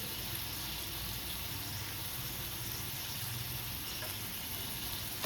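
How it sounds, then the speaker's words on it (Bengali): Beetroot, potato and aubergine being stirred and fried in a pan over a medium gas flame, a steady close sizzle with faint scraping, continuous and without speech. "দিয়ে এবার আমি সব সবজিগুলোকে ভালো করে নাড়াচাড়া করে দিচ্ছি, একটু তাড়াতাড়ি ভাজাতে হয়"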